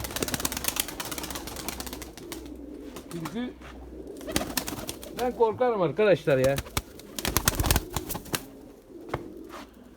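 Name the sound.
Erzurum white pigeons cooing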